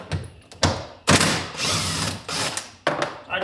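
A ratchet works 10 millimeter bolts loose from a Tesla Model Y frunk, giving several short, sharp bursts of clicking and mechanical rattling separated by brief pauses, close up.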